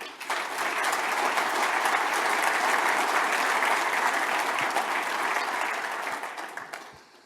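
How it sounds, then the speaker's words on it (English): A conference audience at the IT Nation Connect Europe 2025 welcome keynote gives a warm round of applause, steady dense clapping that fills the hall for about seven seconds before tapering off. "give him a warm round of applause"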